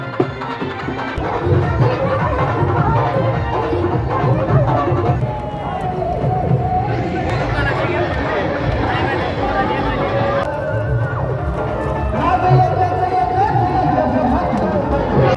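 A dense crowd at the Shri Kalbhairavnath village fair in Sonari gathers for a live orchestra, steady close chatter and many overlapping voices with a loud festive murmur throughout.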